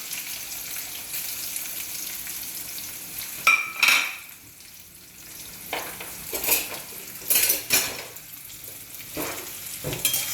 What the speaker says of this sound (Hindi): So I always lower the garlic in hot oil first.